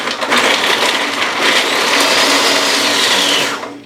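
A food processor chopping carrots, a loud, steady whirring grind with rattling pieces that runs nearly four seconds before cutting off.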